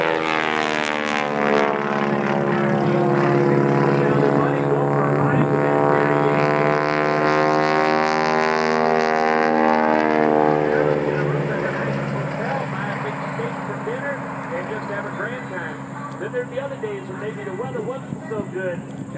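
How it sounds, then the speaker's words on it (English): A Stearman biplane's propeller engine drones loud overhead during an aerobatic display, its pitch sweeping and fading as it passes, with people talking and a crowd murmuring underneath. "Look at that airplane just post up across the top."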